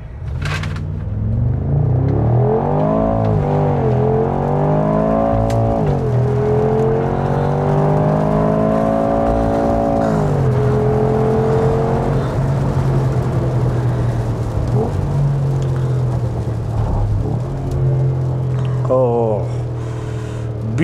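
A Mercedes-AMG G63 accelerates hard, its engine revving loud and close, rising through gears with deep rumbling climbs and shifts over about twenty seconds.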